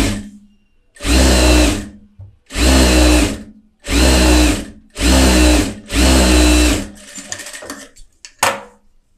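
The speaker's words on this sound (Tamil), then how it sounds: "இப்போ இதில் வந்து நான் 4 தையல் போடுவேன்" A tailor's sewing machine stitching fabric in five loud, steady bursts of about a second each, separated by short pauses, with faint handling clicks at the end and no talk.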